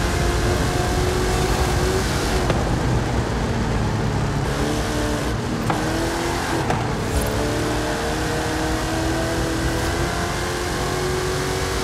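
A toy race car engine in a Hot Wheels video game revs and roars continuously at close range, with pitch shifts as it accelerates and brief surges along the track, backed by a dense game soundtrack.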